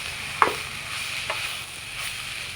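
Momo filling with egg white being stirred in a pan, faint sizzling under a few light scrapes and taps of the spoon.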